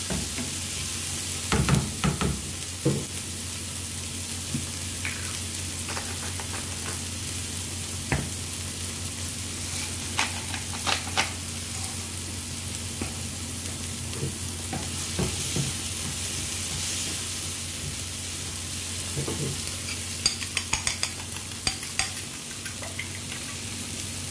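Scrambled eggs frying in a pan give a steady, close sizzle, with scattered scraping and stirring taps from a utensil throughout and no talking.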